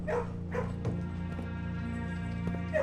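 A dog barks and yips in a puzzle video game, several short, bright barks near the start and end over a steady hum of game music, fairly close, with no talk.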